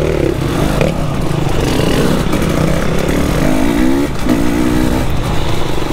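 A Beta 300 enduro motorcycle riding on trails, its two-stroke engine droning loud and close with rising and falling revs over rough clatter.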